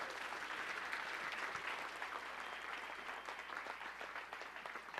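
An audience at a motivational speaking event applauds steadily for several seconds, a faint, distant wash of many hands clapping with no clear voices.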